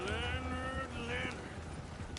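Horse galloping in Red Dead Redemption 2, rapid rhythmic hoofbeats under music and faint game sounds, steady and moderately close.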